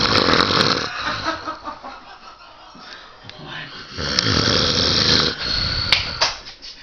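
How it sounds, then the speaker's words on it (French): A man snores loudly in long, rough, rattling breaths that rise and fall, with some talk mixed in around the snores. "Et après on peut le réécouter, voir s'il ronfle."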